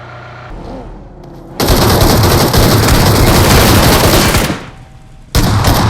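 Loud, sustained automatic gunfire from the mobile battle-royale game BGMI, a dense rattling burst lasting several seconds that briefly dips before another burst starts, with no talk over it.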